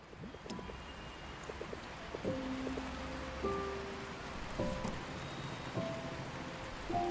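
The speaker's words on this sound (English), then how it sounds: "When suddenly it starts to rain outside." Steady rain hisses throughout in a video game city that gradually floods, with a low rumble underneath and soft melodic tones drifting in over the downpour.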